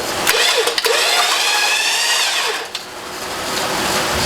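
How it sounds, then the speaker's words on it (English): Newly installed electric winch running steadily with a high, buzzing mechanical whine and grinding hum, close and continuous with slight pitch wavering, no talk. "The winch is operating great."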